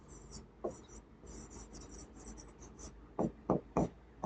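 Chalk or marker writing on a board during a physics lecture, a run of soft scratchy strokes ending in several sharper taps and strokes close by, with no talking.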